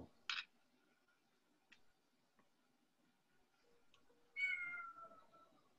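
A young farm kitten gives a short meow early on and a longer, louder meow near the end, with faint ticking and clicks in a quiet room between them.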